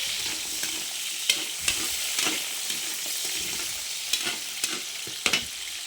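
Chicken curry with carrots and potatoes gets stirred in a frying pan, a steady broad sizzle with scattered sharp scraping clicks of the spoon against the pan.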